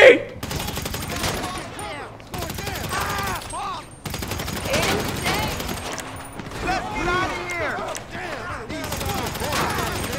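Gunfire in GTA 5 crackles through a busy fight, bursts of shots recurring over roughly ten seconds beneath excited talking and other game sounds.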